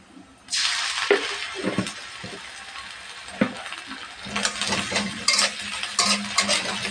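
Beans and potatoes (shim alu bhaji) frying in a home kitchen pan: a loud, steady sizzle starts abruptly, with scattered utensil stirs and clinks on top.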